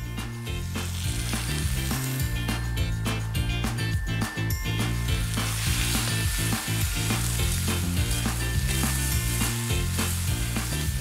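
Onions frying in a pan at a farm-to-table restaurant, a continuous loud sizzle with clattering stirring under steady background music.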